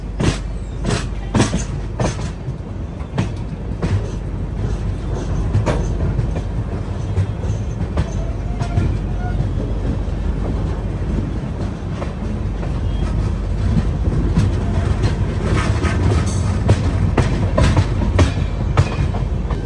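The North East Express runs steadily between NJP and Kamakhya in economy class, a loud continuous rumble of wheels on track with repeated clickety-clack rail joints heard from inside the carriage.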